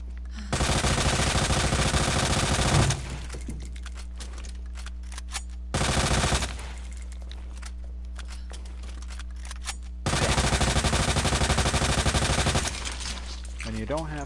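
Bursts of rapid automatic gunfire in the Resident Evil 2 remake, fired at enemies in three loud sustained volleys separated by quieter gaps with a low steady hum.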